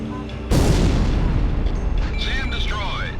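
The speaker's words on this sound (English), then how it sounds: "They're just tossing bombs all over the place" Bombs explode during an aerial war mission in the flight combat game Ace Combat Zero, a sudden loud booming blast that rolls on as a heavy rumble, with game voices and radio chatter mixed in.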